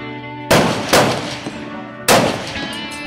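Rifle shots fired at an outdoor shooting range during a CMP shoot at a fish and game club: three loud, sharp reports, two close together and a third after a pause, each with a ringing decay.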